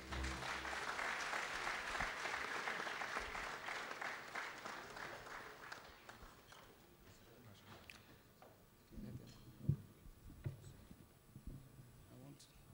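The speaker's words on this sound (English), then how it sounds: "A round of applause." Audience applause at an evening event with Nigeria's Vice President, a fairly steady wash of clapping for about six seconds that then thins out, leaving murmuring, shuffling and a few scattered sounds.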